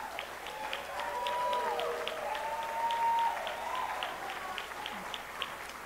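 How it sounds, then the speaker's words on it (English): A town hall meeting audience in Newark applauds in a soft, distant patter of clapping that lasts several seconds, with faint tonal sounds drifting over it. "I get better applause than that."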